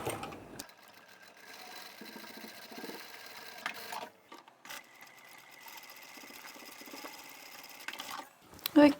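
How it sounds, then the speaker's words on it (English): A sewing machine stitches straight across a fabric seam for a harvesting apron, a steady mechanical whir that stops briefly and then resumes, with a few louder knocks near the end. "we'll sew straight across both of those"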